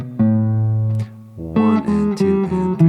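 A plucked guitar sustains one low note, then a quick run of picked notes steps downward, clear and close with no talking.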